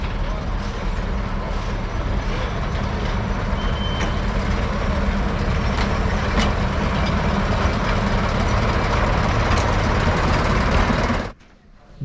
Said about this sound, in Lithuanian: mums buvo pasiūlyta pasivažinėti vietinės reikšmės traukinuku čia pat netoli stoties